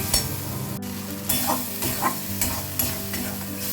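Chopped tomato sautés with salt in a pan for an ilish fish-head and kachu dish, a close, steady sizzle broken by repeated scraping strokes of a spatula stirring it.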